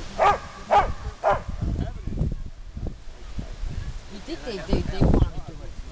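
A pit bull at an agility class gives three sharp barks near the start and one more about five seconds in. People talk around the dog throughout.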